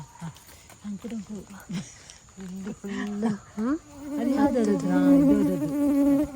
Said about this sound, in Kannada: ಇದು ತುಪ್ಪದ ಜೇನುನೊಣವ ಅಂತ ಬರ್ತಾ ಉಂಟು